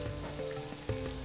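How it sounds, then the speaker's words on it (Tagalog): Dried salted fish (daing) frying in a pan, a steady soft sizzle with faint crackles and a couple of louder pops, close by with no talk. "prito lang natin."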